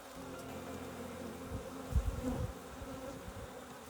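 Honey bees hum steadily at an opened hive during a pre-winter colony inspection, a soft continuous drone with a few louder buzzes as insects pass close.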